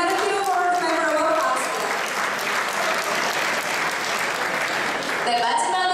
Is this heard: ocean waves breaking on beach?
no